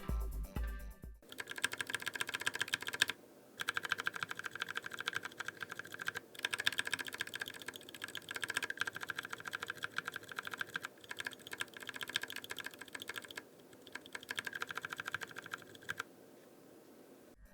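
Continuous clacky typing on a mechanical keyboard with Arctos switches, close up, with rapid uneven keystrokes and a couple of brief pauses.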